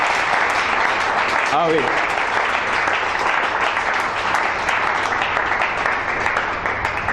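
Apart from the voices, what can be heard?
congregation applauding and cheering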